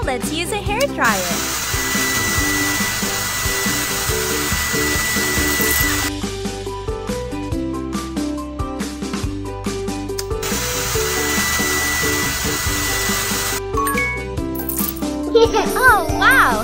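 A hair dryer in the mobile game Panda Lu Baby Bear Care 2 gives a steady blowing hiss in two long bursts, mixed with game music, jingles and chimes.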